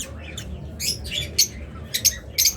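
A pair of lutino Fischer's lovebirds give sharp, high squawks and chirps in quick irregular bursts, close and fairly loud over a low background murmur.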